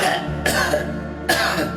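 Coughing sound effect in a Hindi horror audio drama, as a man coughs after being choked by roots: two short harsh coughing bursts, close and fairly loud, over a low, steady background tone.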